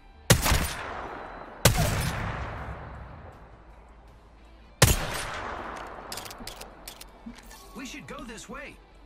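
Three loud, sharp 30-30 Repeater rifle shots in Apex Legends, spaced a few seconds apart, each followed by a long decaying echo, then fainter clicks and someone speaking near the end.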